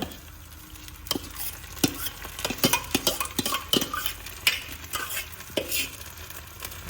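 Repeated clinks and scrapes of a utensil stirring tempered mustard greens in a pan, irregular and close, over a soft sizzle, with no voices.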